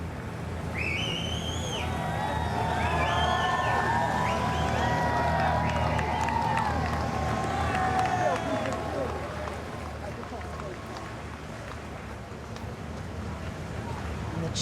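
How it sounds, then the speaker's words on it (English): A distant crowd cheers as a state hearse carrying a coffin passes with police outriders, a broad sustained roar with faint whistles rising over wind noise. "Cheers of the crowd."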